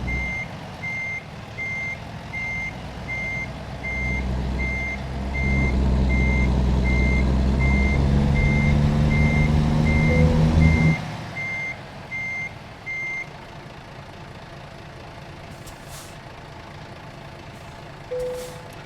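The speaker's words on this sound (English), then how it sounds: "So I even had a high gear reverse there apparently." A truck's reversing alarm in American Truck Simulator beeps steadily and evenly for over ten seconds over a low engine rumble that swells and then drops back to idle, with a few short hisses afterward.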